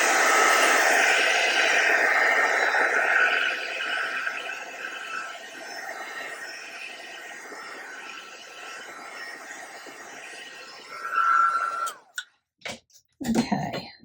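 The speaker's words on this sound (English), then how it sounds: "No, I'll need to use the heat gun." Heat gun drying alcohol inks, a loud steady rushing blast that fades slightly over several seconds before cutting off, followed by a few brief handling knocks.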